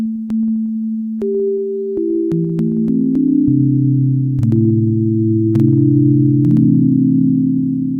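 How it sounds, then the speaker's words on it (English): A plain, pure sine-wave tone from a Kodamo Mask1 synthesizer holds steady, then shifts through several pitches in overlapping steps, with faint clicks where notes begin. "So that's just the bare sine wave."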